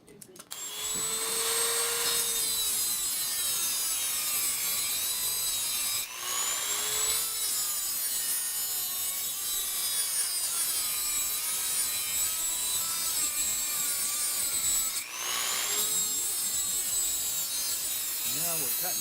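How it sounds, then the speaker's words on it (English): Wheel axles on a model airplane's landing gear are trimmed with a steady back-and-forth rasping cut that runs nearly continuously, pausing briefly a few times before the strokes resume. "Now we're cutting off the wheel."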